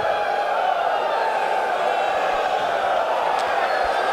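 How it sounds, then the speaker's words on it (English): The crowd at a Mosconi Cup pool match in the arena gives a sustained, dense rumble of reaction and murmuring, steady and fairly loud throughout, with a few faint knocks underneath. "Listen to the crowd punishing every mistake that comes from Team USA, magnified."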